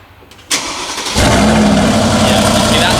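A Mercedes-AMG GT Black Series engine cranks and fires, then settles into a loud, steady, rumbling idle that stays close and constant to the end.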